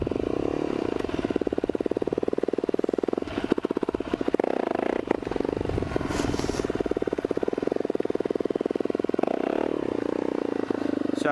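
A motorcycle engine drones loud and steady throughout a ride, with a rough, buzzing tone and some clattering and wind rumble, recorded close up.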